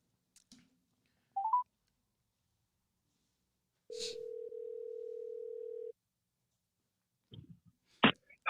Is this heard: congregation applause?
no